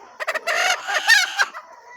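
Free-range country chickens on a poultry farm of about five hundred birds, heard as a close burst of several clucks and squawks overlapping in quick succession, with one bird's call rising above the flock, and no talking.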